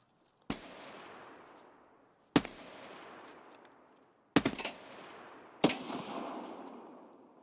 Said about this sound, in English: Heard a gunshot.